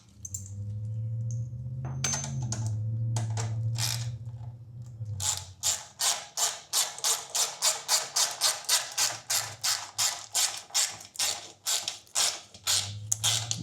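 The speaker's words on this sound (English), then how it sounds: "Tighten up the bottom clamp." A ratchet tightens the bottom exhaust clamp of an Arrow Pro-Race exhaust on a Kawasaki Z900 SE, first with a low mechanical hum and scattered clicks, then a long run of steady, evenly spaced loud clicks, close by.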